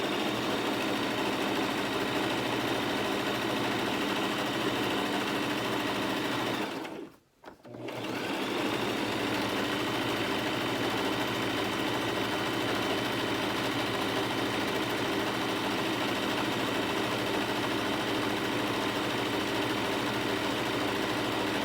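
A sewing machine stitches a Christmas stocking in a long, steady mechanical hum, pausing briefly for a moment before running on continuously, close and fairly loud with no voices.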